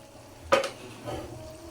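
Curry stirred in a pan, one short scrape and rustle of the spoon followed by a fainter second stroke over a quiet, low sizzle.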